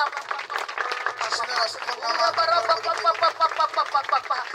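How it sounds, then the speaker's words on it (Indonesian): Congregation clapping hands in rhythm during an Indonesian church worship service, steady dense claps filling the room with singing or talk mixed in. "Clap your hands Tepuk to tangan"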